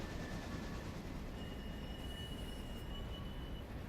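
Steady rumble of a train running in the Railroader railway game, a broad continuous roar with faint high wheel squeal lines, heard alone without talk.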